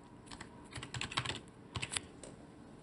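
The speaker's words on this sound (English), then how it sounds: "we are going to go to the search bar and type in environments" Keystrokes from typing into a search bar on an Oculus Quest 2 home setup, a short burst of several quick, close clicks in two loose clusters, with no talking.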